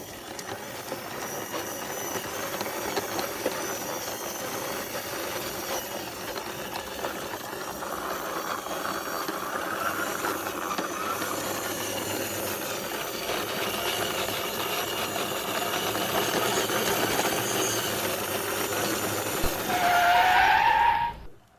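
A pink toy Minister car is pushed along by hand, making a continuous whirring, rolling drone that builds gradually and ends in a brief louder, high squealing rush before cutting off.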